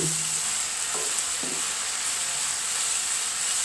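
Ivy gourd fries with added chilli powder under a loud, unbroken sizzle, with a few soft knocks of a spoon stirring early on, up close and with no voices.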